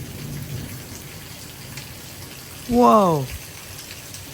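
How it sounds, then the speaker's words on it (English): Heavy rain pours steadily during a severe thunderstorm with gusty wind, a dense constant hiss throughout; a man exclaims once briefly near the end. "that rain is picking up even more"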